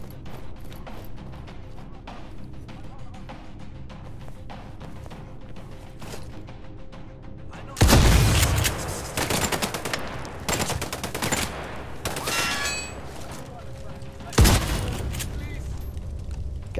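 Shotgun fire in the video game Sniper Ghost Warrior 3: two loud, booming blasts several seconds apart, each ringing out over steady game ambience, while someone talks now and then.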